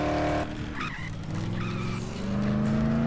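A car driving and skidding in the zombie game Dead Island: a steady engine drone with squealing tires sliding, fairly loud and continuous, with no talking.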